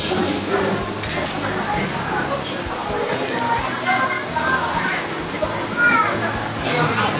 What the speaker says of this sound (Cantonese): 大家睇下呢個雪花牛板腱有幾厚，再放落個爐度炸炸聲